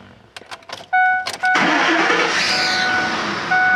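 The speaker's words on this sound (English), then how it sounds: "And I'll go ahead and start it up. It may be a little noisy." A 2003 Ford Explorer Eddie Bauer cranks over and its engine catches after a few short starter bursts, then settles into a loud, steady idle close by with a faint warning chime.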